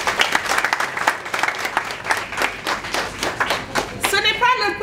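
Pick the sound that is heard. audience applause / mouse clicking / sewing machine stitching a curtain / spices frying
audience applause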